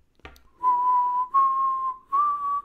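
A person whistles a clear sustained note in three long held stretches separated by brief breaths, the pitch steady and slightly rising on the last, close and alone after a short click at the start.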